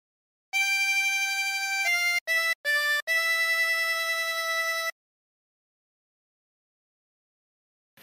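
A 16-hole tremolo harmonica plays the tune of Home on the Range, a few sustained reedy notes with short gaps between them, clear and solo against silence.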